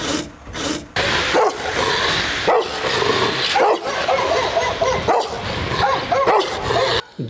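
A dog barks repeatedly from behind a fence at a house, loud and close, with sharp yips and whining between the barks and a voice speaking faintly underneath.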